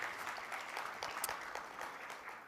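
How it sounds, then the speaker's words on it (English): An audience at the opening plenary of the UNA-USA 2022 Leadership Summit claps steadily, a dense, even patter of many hands sounding somewhat distant and soft, with no speech over it. "So I want to give another round of applause to all of those."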